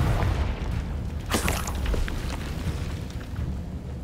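A Confringo spell explodes in the video game Hogwarts Legacy with a deep boom and a bright burst, a rumbling tail trailing off over a low, steady game background.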